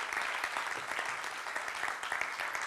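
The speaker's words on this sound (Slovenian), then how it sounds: "En velik aplavz za odlična glasbenika." Warm applause from an audience at a tourism fair event in Dolenjske Toplice, honoring a violin and guitar duo; dense, even clapping fills the whole stretch without pause.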